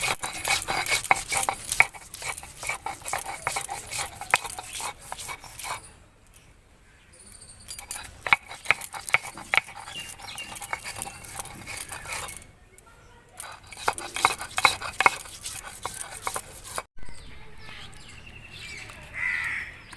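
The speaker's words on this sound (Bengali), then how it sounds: "এখানে আদা রসুন আমি ছাড়িয়ে ধুয়ে নিয়ে চলে এসেছি, এবার এটাকে আমি বেটে নেব।" Peeled, washed ginger and garlic are ground into paste for a village-style duck curry, giving a steady, close scraping and rubbing that runs in long stretches broken by brief pauses, with no speech.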